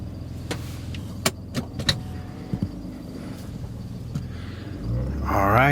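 A car idles and rolls off with low engine rumble, a few sharp clicks and thumps, then louder rising engine and road noise near the end.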